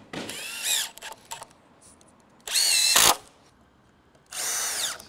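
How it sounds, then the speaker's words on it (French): Power screwdriver driving screws into the inside frame of a Chambéry 70mm wooden garage, heard as three short, whirring bursts close by, separated by quiet pauses with light handling noise. "Nous allons maintenant visser le cadre côté intérieur et on va mettre uniquement le côté intérieur."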